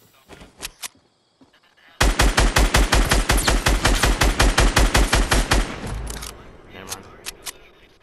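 Gunfire in an online shooter game, heard as a rapid, loud burst of evenly spaced automatic shots lasting several seconds, preceded and followed by scattered single shots and faint background noise.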